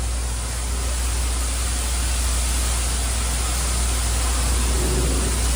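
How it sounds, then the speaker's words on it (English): Cars drive past on a road in front of the Haunted Mansion at Magic Kingdom, a constant loud wash of traffic noise and low engine rumble with no distinct pass-bys and no talk. "nothing like hearing cars in front of the Haunted Mansion"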